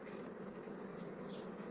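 Honey bees buzz steadily at a hive producing around 30 kg of honey, a dense continuous drone with faint, brief higher whines from individual bees passing close by.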